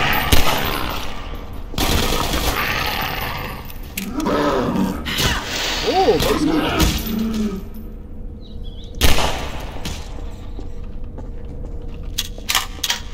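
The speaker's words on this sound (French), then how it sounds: "Bah alors, je tire dessus d'abord." Player weapon fire in Half-Life 2 Episode One comes as loud, abrupt bursts scattered through the stretch, mixed with creature growls and screeches and steady game noise.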